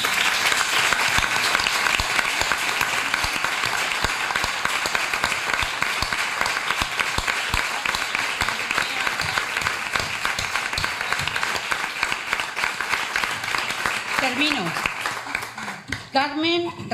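A large audience at a memorial tribute in Utrera, Spain, gives a long, steady round of applause that fills the room for about sixteen seconds, fading out with a few voices at the very end.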